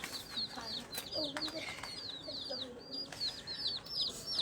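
Small farm chicks peep and cheep in rapid, high repeated calls, many birds together and close, with a few lower clucking notes mixed in over a soft background hum and no talking.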